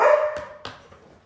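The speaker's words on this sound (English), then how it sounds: "How are you holding the camera when you're barking?" A dog gives one loud close bark followed by two shorter, sharper yips, all within about a second, in an indoor room.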